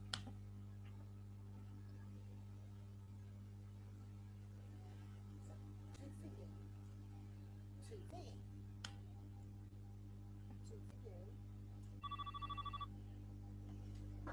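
A telephone rings in a short electronic burst near the end, over a long stretch of faint room noise and steady low hum.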